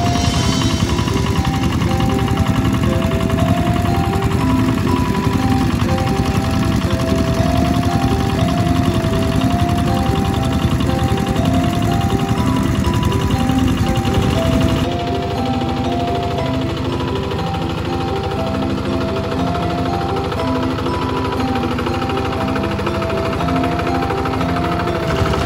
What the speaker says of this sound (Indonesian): Mesin diesel ini bekerja selama 12 jam dari pukul 6 pagi hingga 4 sore